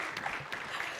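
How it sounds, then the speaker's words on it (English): Brief burst of audience applause at a science communication talk, a steady wash of clapping for about a second with no talk over it. "I think that deserves a round of applause"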